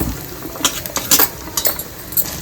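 Ginger pieces dropped into hot sunflower oil for a Bhimavaram-style ginger pickle, giving a steady close sizzle with scattered clinks of a utensil against the pan.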